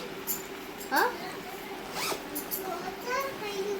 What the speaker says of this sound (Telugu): ఇక్కడ అయితే ఒక జిప్ వచ్చింది